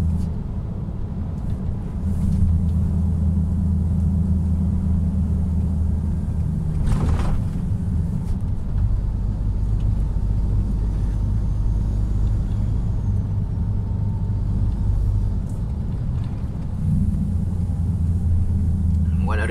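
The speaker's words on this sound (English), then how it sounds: "It's retarder. Not using foot brake." A 550 Volvo truck slowing on its engine retarder in South Africa, a steady deep droning rumble holding close and loud throughout, swelling slightly near the end, with a brief sharp burst around the middle.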